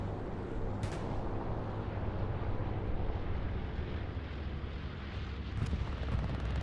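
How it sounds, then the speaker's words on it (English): Explosions from a P-47 Thunderbolt bombing run in a World War II multiplayer shooter game roll in as a continuous dense, loud rumble of blasts and battlefield noise, with sharper bursts near the start and end and no talk. "Bombing run coming in."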